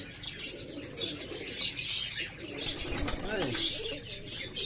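Pigeons in a loft flap their wings in bursts of close, fluttery whooshes, mixed with soft low cooing and a few chirps. Rustling movement fills the space between calls.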